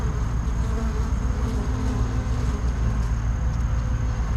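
Honeybees buzz steadily at a hive entrance as foragers return carrying yellow and white pollen in autumn, a dense, continuous drone held close and at an even level throughout.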